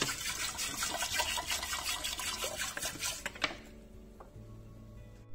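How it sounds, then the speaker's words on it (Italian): Water is poured into a pressure cooker pot, a fairly quiet continuous splashing stream for about three seconds that stops, followed by a few soft clinks and near silence. "Mettiamo l'acqua."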